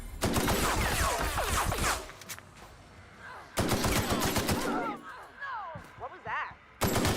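Gunfire in The Outer Worlds: Spacer's Choice Edition, loud dense bursts of shots in two main volleys with a final burst, mixed with game combat noise and voices talking between them.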